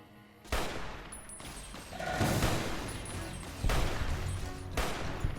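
Gunfire in the video game Fallout: New Vegas, a dense run of loud, close bursts and repeated blasts lasting several seconds, with no talking over it.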